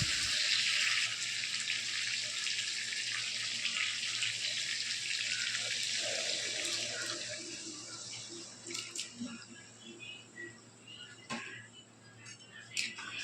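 Mutton mince stock pours steadily into a pan of oil and softened tomatoes with a loud, continuous watery rush, then fades into quieter bubbling and soft splashes.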